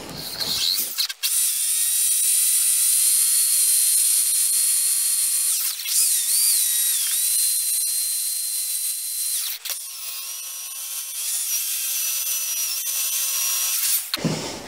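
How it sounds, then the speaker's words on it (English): A power drill bores a pilot hole through steel angle iron on a log cabin build, a loud, close, high whining drone held for about thirteen seconds, with brief pitch dips as the bit bites and a stop at the end. "I'm just going to go ahead and run a pilot hole through here with my drill"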